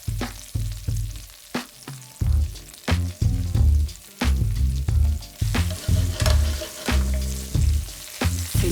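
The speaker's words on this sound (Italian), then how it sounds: "I nostri capperi si stanno soffriggendo per bene," Capers and chili pepper frying in a pan for pasta alla Vesuviana: a steady close sizzle runs throughout, with repeated low knocks and scrapes from stirring the pan, and no talking.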